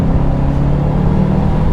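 Subaru WRX STI turbocharged engine droning steadily from inside the cabin while driving at about 45 mph, a continuous low rumble with a faint whine, no voices.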